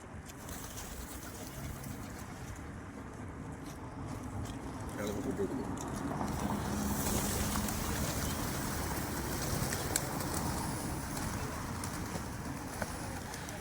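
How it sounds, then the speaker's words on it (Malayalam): Tame pigeons coo in low, repeated murmurs near their feed, alongside occasional wing movement, while people talk quietly in the background. "നല്ല ഇണക്കമുള്ള പ്രാവുകളാണ്"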